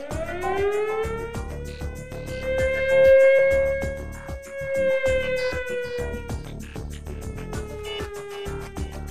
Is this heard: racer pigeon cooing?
no